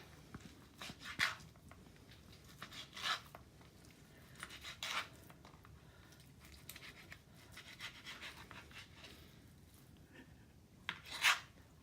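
Several sharp knife strikes on a cutting board dicing raw chicken, spaced irregularly with quiet scraping between them, close by and fairly soft.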